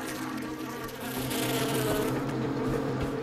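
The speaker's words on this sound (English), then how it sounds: "Bees, go away!" A swarm of bees in Far Cry 4 drones with a steady, dense buzz that holds loud and close for the whole stretch, with no talk over it.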